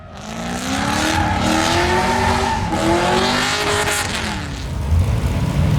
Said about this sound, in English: There were also drifting, and again these are LS swap vehicles, a lot of imports here